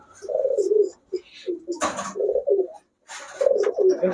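Pigeons in a coop give soft, repeated throaty coos in short bursts close by, broken by a couple of brief flutters and pauses.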